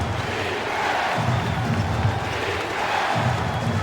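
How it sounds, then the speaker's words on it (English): Home crowd in an NBA basketball video game arena, a Charlotte Bobcats home game, roaring and cheering in a continuous loud wash that swells in waves across the whole stretch. "Marv, this home crowd is going crazy."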